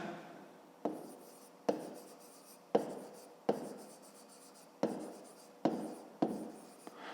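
A pen scratches on paper in a series of short, rhythmic strokes, about eight distinct scribbles close up and quiet, with no talking over them.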